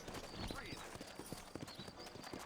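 Horse hooves clip-clop steadily in the Red Dead Redemption video game, a quick irregular patter of hoofbeats on the ground with a faint whinny, under a man's speech.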